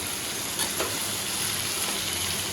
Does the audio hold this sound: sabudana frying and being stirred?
yes